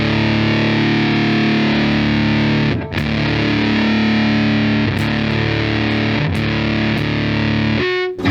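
An electric guitar runs through a Fuzz Face pedal with the fuzz fully up and the volume rolled back slightly, producing a thick, saturated, buzzing tone that sustains continuously with a few short breaks between phrases.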